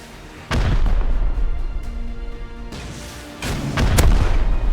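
High velocity rockets in Rust slam into a mountain fortress during a raid, several heavy booming explosions at close range, two sharp blasts toward the end over a low rumble.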